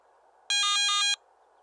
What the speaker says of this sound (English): a brief audio alarm will sound every 60 seconds